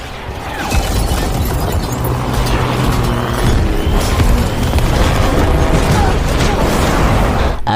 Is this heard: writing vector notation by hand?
no